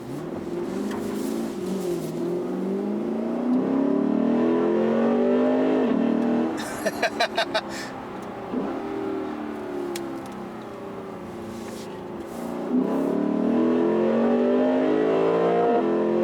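A 2016 Lexus GS F engine revs up through the gears, rising and falling in pitch, with a brief burble of shifts midway, loud and close from inside.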